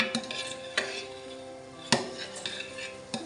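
Spoon stirring chatur madhu, a mix of ghee, sugar, butter and honey, in a pot, with a few scattered clinks and scrapes against the metal over a quiet background.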